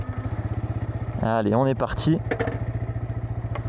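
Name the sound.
Yamaha R125 motorcycle engine running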